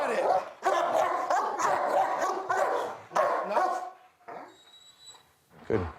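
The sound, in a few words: dogs barking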